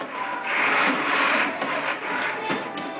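A child's electric toy car whirring steadily up close, its small motor holding a continuous buzzing drone with slight wavering over a few seconds.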